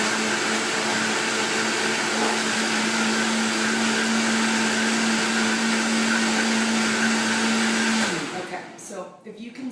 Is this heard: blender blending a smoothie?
yes